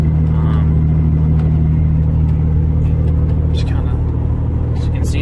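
A truck hauls a heavy-duty 2015 Circle M gooseneck flatbed trailer uphill, its engine a loud, steady low rumble and drone heard from inside the cab, with someone talking over it.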